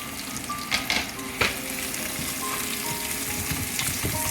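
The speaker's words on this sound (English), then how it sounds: "And then we go with our onions. So we have to saute this for a little nice and golden brown." Onions sautéing in ghee for saffron ghee rice, a steady close sizzle with a few sharper stir or utensil clinks early on, no voices.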